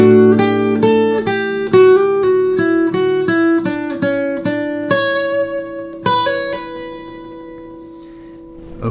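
A guitar plays a lick at a slow pace, each picked note ringing distinctly before hammer-ons and a long vibrato note at the end. The playing is near and clear, with no voices.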